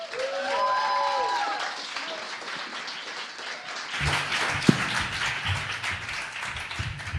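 Audience applause and clapping fill the room at a teen gala performance, fading slightly midway before picking up again with scattered crowd noise and a sharp tap.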